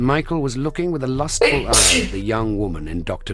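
A single sharp sneeze bursts out in the middle of continuous talk during a game stream, a loud, brief explosive puff surrounded by speaking voices.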